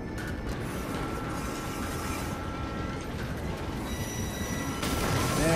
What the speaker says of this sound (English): the train's hitting the brakes